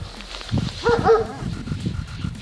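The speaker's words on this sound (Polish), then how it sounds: "pies mnie nie pogryzie specjalnie, ale szczeka" A dog on a rural family farm gives a short burst of a couple of yappy barks and whimpers, fairly close, amid low background noise.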